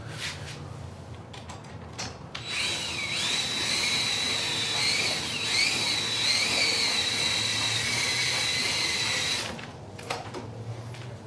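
DeWalt drill on a 20-inch extension cranking a Kawasaki Mule 500 engine: a steady high whirring drive sound with a wavering pitch, running for about seven seconds before cutting off, with quieter clicks before and after.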